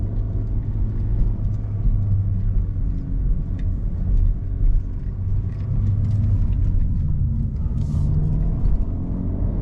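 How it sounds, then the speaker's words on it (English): A 250 HP Honda Civic Si drives on a busy road with a steady low engine rumble, a light hiss that may be turbo spooling, and a brief higher whoosh near the end, heard close from inside the car. "A little turbo noise."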